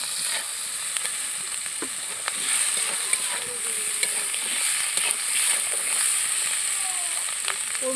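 Chopped tomatoes and green chili sizzle steadily in a hot pan, a continuous bright frying hiss with occasional stirring scrapes, close and fairly loud, with no voice over it.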